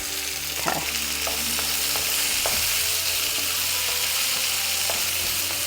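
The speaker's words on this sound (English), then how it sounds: "And I want this to fry." Okra frying in a pan for an Indian curry, a steady close sizzle with faint occasional stirring clinks, no talking.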